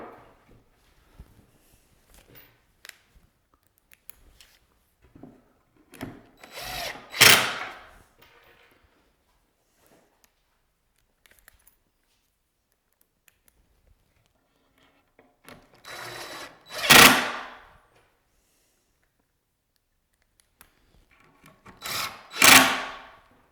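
A drill drives 1 inch pocket screws to join a cabinet during assembly: three separate short whirring bursts that rise and stop, spaced many seconds apart, with quiet workshop handling sounds in between.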